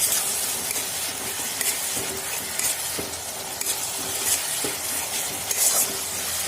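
Spice paste being stir-fried in a pan gives a steady, close sizzle with occasional scraping stir strokes, and no voices.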